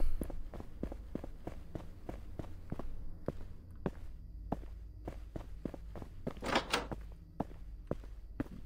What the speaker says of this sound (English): The doors open so violently.